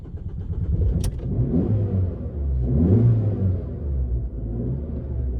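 An old car's engine rumbles low and steady, swelling mildly a couple of times with one brief sharp click near the start and no voices.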